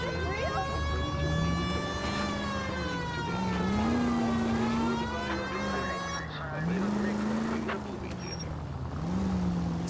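Wailing police car siren in LA Noire, a continuous rising and falling tone that sweeps up and down repeatedly, loud and close over a low engine rumble.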